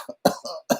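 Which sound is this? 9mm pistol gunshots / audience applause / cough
cough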